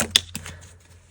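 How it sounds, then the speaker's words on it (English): Tarot cards are shuffled by hand, giving a couple of quick, crisp papery taps close by, then a soft rustle fading away within about a second. "Well, here, let's shuffle. Let's shuffle."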